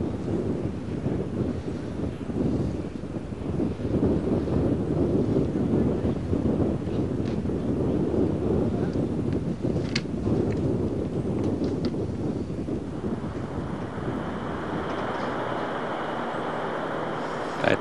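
Steady wind gusts buffet the microphone on a golf course during the 1992 US Open, a continuous low roar lasting throughout with no distinct breaks and no voices.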